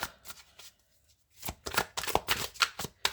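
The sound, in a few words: tarot cards being shuffled and drawn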